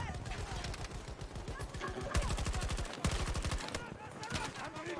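A deployed turret firing in Battlefield 2042, with rapid sustained bursts of automatic gunfire in long rhythmic strings and short breaks between them, loud and close, and a voice talking over the top.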